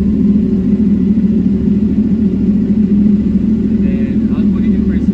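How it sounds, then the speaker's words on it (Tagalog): Engine of a CFMOTO 450SR motorcycle running close and loud, a steady low rumble holding even throughout with no clear rise, and a voice faintly audible near the end. "And then, let's start the bike."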